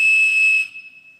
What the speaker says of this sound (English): and you blow the whistle like this